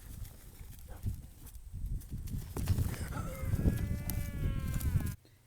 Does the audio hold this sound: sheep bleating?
yes